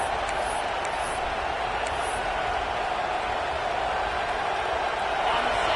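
A football stadium crowd rising up: a dense, steady roar that fills the whole stretch at constant loudness, with no clear voices standing out.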